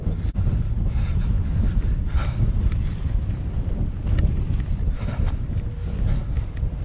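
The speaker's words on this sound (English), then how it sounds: "it's a bit windy" Strong, steady wind buffets the microphone on an exposed hilltop during a Peak District walk near Win Hill, a dense continuous roar with a few brief gusts and no speech.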